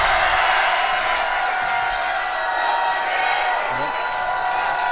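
Basketball dribbling during a high school boys' game between DeSoto and Hillsboro, with bounces partly buried under steady gym crowd noise and cheering across the whole stretch.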